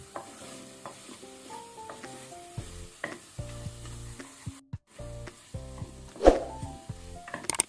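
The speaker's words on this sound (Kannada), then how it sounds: "ಮಸಾಲೆ ಡಾರ್ಕ್ ಕಲರ್ ಬರುವ ತನಕ ನಾವು ಫ್ರೈ ಮಾಡ್ಕೊಳ್ಬೇಕು ಈ ರೀತಿ." Mutton masala frying on high flame for Hyderabadi mutton fry, a steady sizzle with repeated stirring scrapes of a spoon against the pan, close and fairly loud, no talking.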